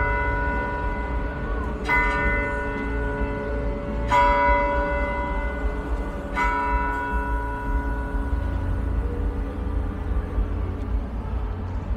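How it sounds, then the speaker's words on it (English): The old courthouse tower bell in downtown Gainesville rings out outdoors, three resonant strokes about two seconds apart, each leaving a long ringing decay over a background of street noise. "We got the bell, the ring. Apparently it's still functional."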